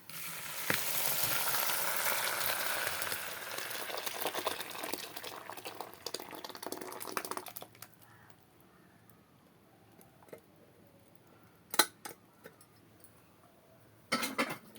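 Tempering (tadka) for a Telugu-style sambar sizzles loudly and steadily in a hot pan for several seconds, then dies down to a faint crackle with a couple of brief sharp flare-ups.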